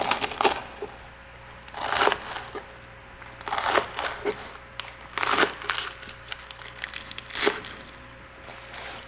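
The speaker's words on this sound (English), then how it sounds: "we're gonna cut this into about 1-inch pieces. We're just gonna cut that." A kitchen knife chops rolled collard greens into inch-wide pieces for kimchi, a series of close, crisp crunching cuts in irregular bursts against a cutting board, with no talk.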